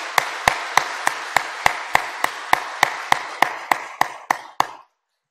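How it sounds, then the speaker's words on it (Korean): Sixteen sharp, evenly spaced claps in unison ring out at a steady beat in a Sunday church service, each with a short echo, then stop abruptly. "우리 하나님께 영광의 박수를 올려드립시다"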